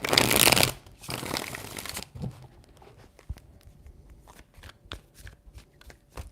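Tarot cards being shuffled up close, with a loud riffling burst at the start followed by softer, scattered card taps and slides; no talking.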